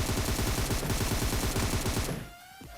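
Rapid automatic gunfire from the Free Fire mobile battle royale game, a dense rattling burst lasting about two seconds before cutting off into quieter game ambience.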